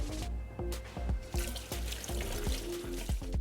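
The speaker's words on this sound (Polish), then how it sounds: "cebulkę przepłuczę zimną wodą, tak żeby wypłukać ten agresywny sok" Chopped onion is rinsed under cold running tap water in a kitchen while a vegan kebab is prepared. The water splashes and trickles steadily, and a run of sharp clatters and knocks cuts through it close to the mic.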